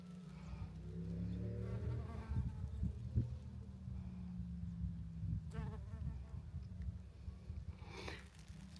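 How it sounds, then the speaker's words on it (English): Bees buzzing among spring wildflowers on a walking trail in northern Portugal, a close, low droning hum with wavering pitch as insects fly past the microphone, steady and fairly quiet. "Let's look at the bees here."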